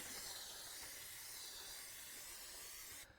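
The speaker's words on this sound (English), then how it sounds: "Before we hit the road here, we're gonna spray down this whole panel" A can of PAM cooking spray sprays onto a race car body panel as a continuous close hiss that holds steady for about three seconds and then cuts off abruptly.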